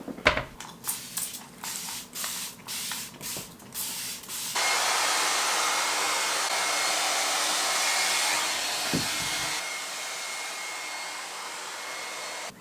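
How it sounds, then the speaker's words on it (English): A hair dryer fitted with a diffuser blows a steady, loud whooshing airflow for several seconds, preceded by a run of brief rustling and handling bursts. "I bought this attachment for my hairdryer. That's a diffuser."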